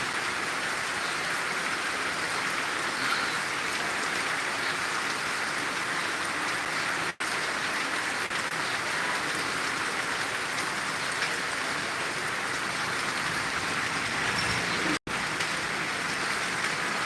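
Heavy rain with strong wind in Tangail keeps up a constant, dense wash of falling water, broken only by two split-second dropouts, with no one talking.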